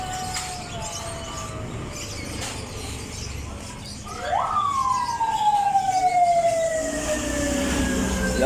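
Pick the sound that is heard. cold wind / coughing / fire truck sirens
fire truck sirens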